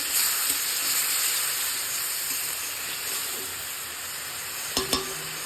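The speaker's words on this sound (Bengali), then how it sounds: "দেখো শাসটা দিয়ে দিলাম এখন একটু নাড়িয়ে চাড়িয়ে আমি" Sauce is stirred into fried vegetables in a pan for healthy pasta, with a continuous hissing sizzle and a couple of sharp utensil knocks near the end.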